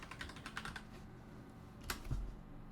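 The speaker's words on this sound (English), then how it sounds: "So let's go ahead and type Golden." Computer keyboard typing in quick bursts of soft clicks, then a short pause and a few louder key strikes near the end, close and fairly quiet with no talking.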